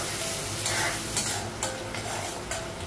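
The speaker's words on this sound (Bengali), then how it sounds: "পেঁয়াজটা একটু লাল করে ভেজে নেব।" Sliced onion sizzles in a pan with cardamom, green chilli and cinnamon, giving a steady frying crackle broken by a few short stirring scrapes. It is close and constant, with no talk.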